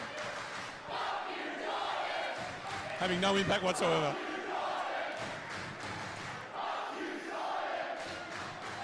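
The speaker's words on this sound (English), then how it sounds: "The PWA crowd there showing their displeasure for Unsocial Jordan." A PWA wrestling crowd jeering Unsocial Jordan, a broad roar of disapproval rising and falling throughout, sometimes swelling into a louder surge, with someone talking over it.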